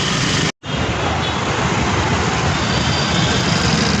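A busy Sunday street in Koti, Hyderabad, gives a loud, steady roar of engines and traffic. A brief dropout occurs near the start.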